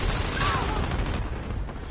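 Gunfire in Call of Duty Modern Warfare, a dense loud rattle of shots over about two seconds that fades slightly at the end, with a voice talking over it.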